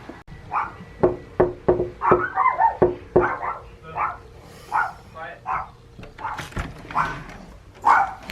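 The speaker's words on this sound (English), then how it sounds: "Attack dog here." A dog barks close by in a house, sharp repeated woofs in a quick run, then more scattered barks and yips with a brief whimper, while a person speaks between them.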